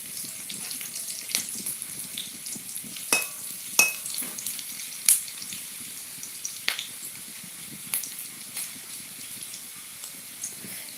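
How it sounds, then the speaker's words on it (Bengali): Onions fry in a pan with a soft continuous sizzle, punctuated by scattered sharp crackles and pops and occasional stirring clatter, close and moderately loud with no speech. "তো এখানে পেঁয়াজটাকে আমি ভেজে নিচ্ছি"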